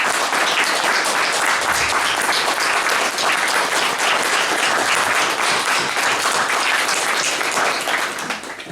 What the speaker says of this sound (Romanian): Să răspătim cu aplauze.